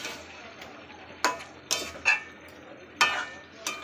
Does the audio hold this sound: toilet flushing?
no